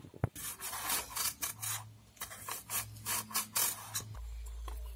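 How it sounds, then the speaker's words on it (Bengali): Potatoes rubbed against a kitchen grater for aloo bhujia, a close, rhythmic rasping of repeated strokes with short pauses, no voices over it. "এই আলুগুলোকে এর মধ্যে গ্রেট করে নেব"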